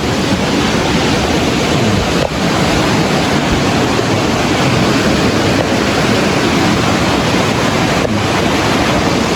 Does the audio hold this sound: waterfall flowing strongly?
yes